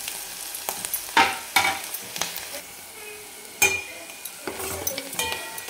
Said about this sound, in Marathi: आपण कांद्याच्या नंतर कढीपत्ता टाकलेला आहे. त्याला परत आणखी 1 मिनिटभर आपण परतून घेऊ